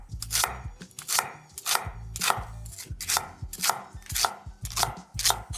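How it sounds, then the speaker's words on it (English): Knife chopping pak choy stems into quarter-inch pieces on a cutting board, about a dozen crisp evenly spaced strokes, close and clear with no talking. "So you could cut the stems about 1/4 inch thick."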